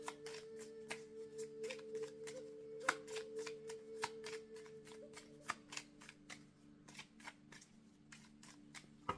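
Oracle cards are shuffled in quick, rhythmic riffles, a dense run of soft flicking clicks that carries on steadily. The shuffling is quiet and no one talks.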